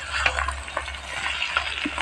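Prawns fry in oil in a village kitchen, a continuous close sizzle with bubbling crackles and a few louder spits, under a low steady hum.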